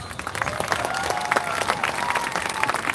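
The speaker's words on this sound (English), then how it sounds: "Can you please give them a round of applause?" A rally crowd gathered outdoors at Nathan Phillips Square in Toronto applauds steadily, with many hands clapping at once and faint crowd voices beneath.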